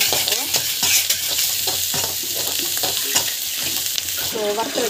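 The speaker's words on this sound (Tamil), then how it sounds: "ஸோ நல்லா வந்து வதக்கிக்கோங்க." Spices with turmeric and asafoetida fry in a pan while being stirred, making a steady close sizzle broken by repeated scraping strokes of the spoon.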